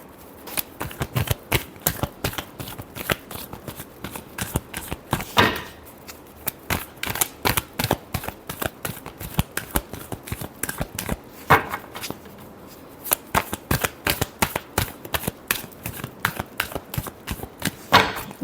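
Tarot cards are shuffled by hand in rapid, repeated riffling bursts, close and crisp, with short pauses between rounds throughout.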